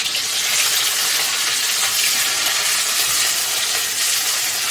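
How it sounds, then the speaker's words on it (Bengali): Egg frying in a pan with chopped onion, a steady broad hiss of sizzling oil running evenly and fairly loud throughout, with no talk. "পেঁয়াজ দিয়ে প্রথমে আমি ডিমটাকে ভেজে নিব।"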